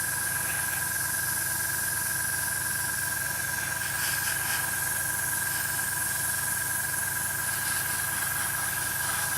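An airbrush or spray can hisses steadily as flat primer goes onto a 1/48 scale Hasegawa Nakajima B5N2 Kate model kit, a continuous close spray with no talking.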